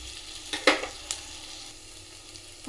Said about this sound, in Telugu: ఆనియన్స్ ఇలానే ఫ్రై చేసుకోవాలి.